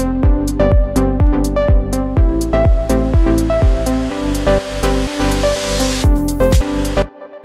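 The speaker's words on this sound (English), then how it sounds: "let's add an uplifter, which you can use for transitions" A white-noise uplifter transition swells upward in a melodic house track, building over the back half beneath a punchy, steady kick pattern and repeating synth notes. Everything cuts off abruptly just before the end.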